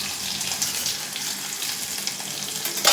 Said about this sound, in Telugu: ఆనియన్ వేగనిద్దాం.